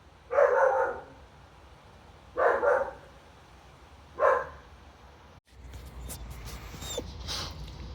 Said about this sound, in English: our neighbour has a dog who's quite young, and whenever he goes out to work, she cries and barks and yelps and whines.